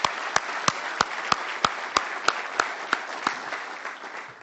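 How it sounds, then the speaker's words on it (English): Audience at an award ceremony claps for about four seconds, with sharp individual claps standing out over a softer spread of applause that tapers toward the end. "Please, if you could stand so we can give you a round of applause."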